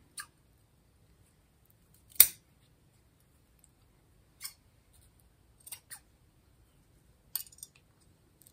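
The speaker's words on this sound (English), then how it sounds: "I'm just gonna cut them 3 inches each." A handful of separate crisp snips from scissors cutting fabric strips for a wedding gown corset lace-up, close and quiet with long silent gaps between the cuts.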